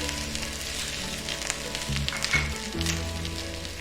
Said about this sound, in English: Stir fry for 2 to 3 minutes.